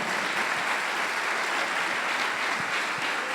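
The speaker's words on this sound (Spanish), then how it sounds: "Den un aplauso a la gloria del Señor" A church congregation gives thunderous, continuous applause, a dense, even roar of many hands clapping at once that holds steady throughout.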